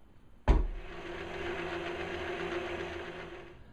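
KitchenAid stand mixer with the wire whisk attachment whirring steadily as it blends a water and yeast mixture for Italian pizza sfogliata dough, starting with a sudden thump and then running as a continuous close mechanical hum with no talk.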